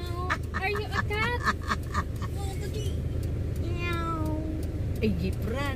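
A person imitates a cat's meow with repeated rising, pitched meow calls, close and clear over steady road and engine noise during family travel in a moving vehicle, with other voices nearby.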